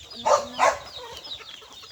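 A chicken gives two short, loud clucks close by, followed by fainter clucking and farmyard murmurs among a flock of chickens and roosters.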